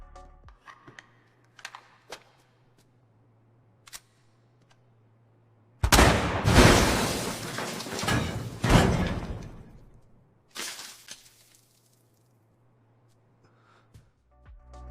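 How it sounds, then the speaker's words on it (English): Bazooka fire and a vault blowing open in an AI-generated scene, heard as a sudden loud blast followed by a long roaring, crackling burst and a few later bangs, after a quiet stretch of faint clicks. "Kling cuts from the raccoon firing the bazooka to the vault blowing open, exposing a pile of golden trash."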